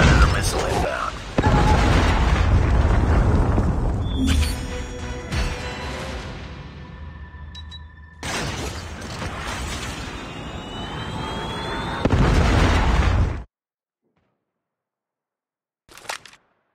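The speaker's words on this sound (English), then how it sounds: "Friendly predator missile inbound." Predator missile strikes in a Call of Duty team deathmatch on Hackney Yard: loud, broadband blasts and jet-like roars in several long waves, some with falling whines, then silence and one short final burst. A game voice may be heard in the mix.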